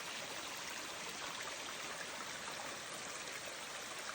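Water trickles out of a rock in a quiet natural spot, a soft, steady hiss of running water heard close and unbroken, with no other sounds.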